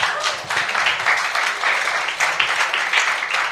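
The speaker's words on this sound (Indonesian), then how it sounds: "Berikan tepuk tangan bagi dia" A church congregation claps after a sermon, a brief wash of applause that stays steady and fairly close with no speech over it.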